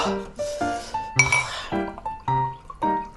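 Glasses clink together in a toast over a spicy buldak noodle and grilled beef intestine meal with soju-beer drinks, a series of bright ringing chinks spaced through the clip, near and clear, with no talk over them.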